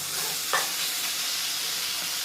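Guar pods and potato curry stir-fried in a pan, giving a steady, close sizzle with a brief scrape of stirring near the start.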